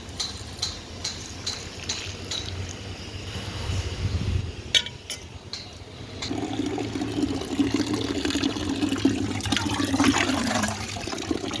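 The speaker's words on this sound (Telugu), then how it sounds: "ఇది వాటర్ పోసుకున్నాం" Water pours and splashes steadily onto garden plants outdoors, with occasional clinks and a rising gush toward the end.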